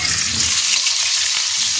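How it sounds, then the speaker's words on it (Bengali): Potatoes frying in hot oil in a pan, a dense loud continuous sizzle and crackle that holds steady for the whole short stretch, with no voices. "আলু ভাজছি"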